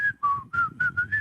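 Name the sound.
whistled imitation of Steamboat Willie song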